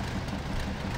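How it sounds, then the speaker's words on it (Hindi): A damaged truck engine in the Spintires off-road driving game gives off a rough, tractor-like rumble, a dense steady roar that holds at one level for the whole second, with no voices. "इसमें से कैसी ट्रैक्टर जैसी आवाज़ें आ रही हैं ख़राब होने की वजह से।"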